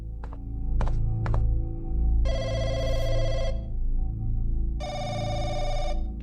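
A public telephone rings inside a Chinese horror video game: a few dull knocks, then two long, loud bursts of bright electronic ringing separated by a pause, over a steady low ambient drone.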